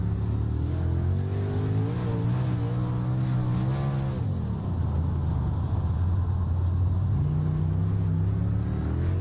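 A dirt late model race car in iRacing at Lincoln Speedway roars steadily up close, the engine pitch climbing and dipping as the throttle is worked through a corner, then settling into a constant drone.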